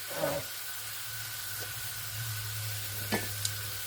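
A pan of melted chocolate fudge cooks nearby, giving a steady soft sizzle and hiss with a faint hum and a few small clicks, fairly quiet and without talking.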